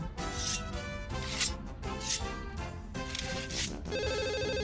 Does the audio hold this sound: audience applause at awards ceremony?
no